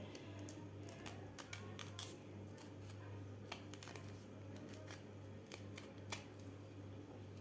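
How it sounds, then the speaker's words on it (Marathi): Knife trimming both ends off bitter gourds one by one for stuffed bitter gourd, heard as faint repeated crisp cuts over a steady low hum, with no one talking. "आपल्याला एक एक करून कारले कापून घ्यायचे आहेत सुरुवातीला आपल्याला दोन्ही साईडचे भाग थोडा थोडा कापून घ्यायचा आहे"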